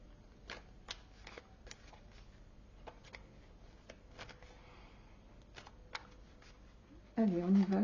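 Tarot cards are shuffled for a weekly reading, giving soft, scattered riffles and flicks close by at low volume, with a louder burst of a speaking voice at the very end.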